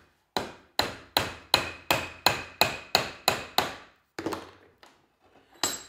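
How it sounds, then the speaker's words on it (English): A steel wedge is hammered into a wooden axe handle with ten evenly spaced sharp ringing blows, followed by a few lighter taps and one final strike, close and loud with no talking. "the little steel wedge that they provide you with is going to get driven across that wooden wedge and into the handle"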